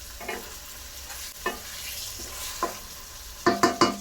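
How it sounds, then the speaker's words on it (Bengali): Fish cooked with tomato is turned and stirred in a pan, giving soft scattered scrapes and taps over a low simmer, then a quick cluster of three sharper knocks near the end. "একবার উল্টিয়ে দিব, তারপরে এমনি ঘুরিয়ে ঘুরিয়ে নেড়ে দিতে হবে"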